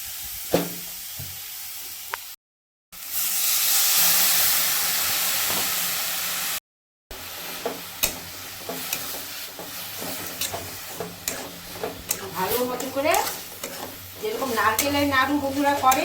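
Water splashes onto date palm jaggery in a hot pan and sets off a loud, steady hiss that breaks off, followed by bubbling and stirring scrapes with sharp crackles near the end.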